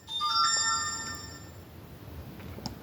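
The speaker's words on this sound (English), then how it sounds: "That's my laptop over there, making the zing noise." A laptop notification chime rings out, a bright cluster of high, clear electronic tones that hold briefly and fade, with faint room noise beneath.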